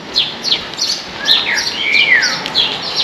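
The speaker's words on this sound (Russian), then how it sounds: "Чирикают птички." Several quick, high chirps and tweets from small birds in seaside Lazarevskoye, Sochi, repeating steadily and close by, with no other sounds over a soft background hiss.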